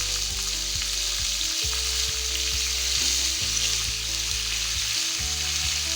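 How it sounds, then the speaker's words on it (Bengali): Three large onions frying in hot oil for egg vegetable noodles, a loud continuous close sizzle with a low rhythmic hum running underneath, no talking. "তেল হালকা গরম হতে না হতেই এর মধ্যে আমি পেঁয়াজগুলো অ্যাড করে দেবো"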